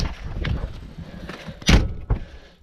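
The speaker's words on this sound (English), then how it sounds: "as you shut it, it will just latch to the bottom door when you pull it to" A DIY stable door on a budget van build being pulled shut so it latches onto the bottom door with a night latch: soft handling noise, then a sharp close thunk followed by a smaller latch click.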